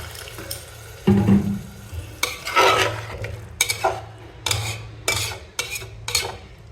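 Basmati rice frying in a pan and being stirred, a run of scraping, rasping strokes in bursts that grow regular toward the end, close and fairly loud over a faint low hum.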